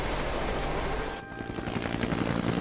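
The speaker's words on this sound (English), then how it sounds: "the helicopters broke through the coastal cloud layer into the early morning sunlight" Helicopters flying low over the sea, a dense continuous rotor roar that dips for a moment and then swells back with a rhythmic beating chop, loud and close with no voice.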